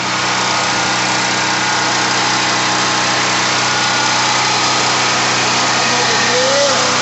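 A portable generator engine runs at a steady, loud, broadband hum, close and continuous without letup, with a faint voice briefly audible beneath the noise.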